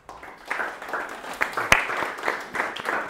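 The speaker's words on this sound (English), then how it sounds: "Clapping for myself." Sparse, uneven clapping at the end of an academic talk on game design, several separate claps at a moderate distance forming a thin, short round of applause.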